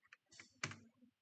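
A few quick, faint keystrokes clack on a computer keyboard, close and quiet, in a short burst.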